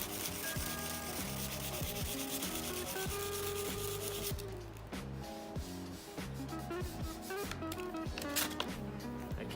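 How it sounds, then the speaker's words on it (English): Hand sanding on a car body panel to rough it up before filler, a quiet rhythmic scratchy rubbing in repeated strokes, close and steady throughout with no talking. "we're going to be doing this to the whole panel to rough it up a little bit"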